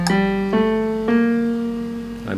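Piano plays the opening notes of a major scale, each struck note stepping upward and ringing into the next, close and clear with no voices.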